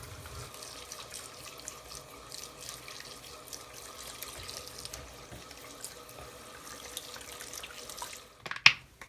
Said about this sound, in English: this conditioner has had time to set, so now we're going to rinse it out